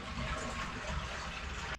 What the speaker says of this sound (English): And we're going to flush the toilets.